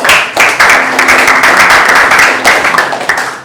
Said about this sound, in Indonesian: terima kasih Darmina sama Tegar, tepuk tangan buat mereka.